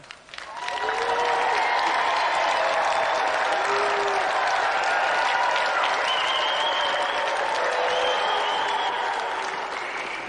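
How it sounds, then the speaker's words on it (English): A large television game show studio audience applauds steadily for about ten seconds, a dense, continuous clatter of clapping that swells in quickly and holds loud throughout. "give a round of applause"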